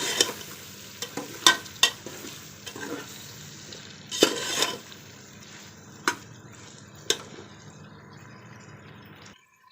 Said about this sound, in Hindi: इसे अच्छे से मिक्स कर लेंगे और आलूओं को भून लेंगे।